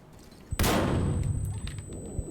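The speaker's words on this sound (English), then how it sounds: "so let's use this flashbang" A flashbang grenade goes off in a tactical shooter video game, a single sharp loud blast followed by a long rumbling, fading decay and faint scattered thumps.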